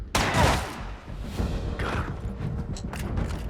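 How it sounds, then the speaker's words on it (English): A silenced weapon fires in the tactical strategy game Corruption 2029: a muffled shot near the start, then softer mechanical thumps and clicks over low game ambience. "I'm going to stay right here and fire the weapon from where I am."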